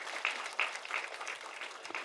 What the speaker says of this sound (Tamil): ப்ளீஸ் ஒரு கைத்தட்டலுக்கு விடுங்களேன்.